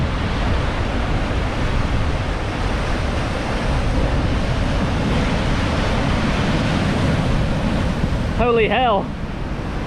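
Ocean waves build and crash at Prussia Cove, Cornwall: a loud, continuous roar of surf with heavy wind buffeting the microphone, and a man exclaims near the end.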